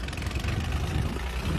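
A tractor engine idles with a steady low rumble and even, continuous throb, close and alone with no talk.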